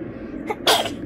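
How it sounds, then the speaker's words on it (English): A person in bed at night gives a brief sharp inhale, then one loud, explosive sneeze right at close range. "You sneezed right at my face."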